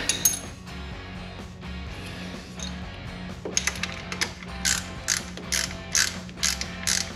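A ratchet wrench turns a 10mm bolt on a restomod Fox Body with a Coyote engine, quick runs of close metallic clicking in repeated bursts, with faint clicking earlier and louder strokes toward the end.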